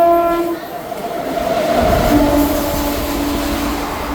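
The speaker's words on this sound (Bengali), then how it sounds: "দেখুন কি দ্রুত একটা ট্রেন এখান থেকে ওভার ক্রসিং হচ্ছে" A fast train crosses nearby, sounding a sustained horn at the start, then rolling past with a loud, steady rumble of wheels and carriages that fills the rest of the clip.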